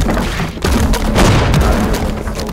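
A loud, booming explosion aboard a sailing warship in the naval combat game Holdfast: Nations At War, with a heavy blast and rumbling, crackling debris that fills the whole stretch.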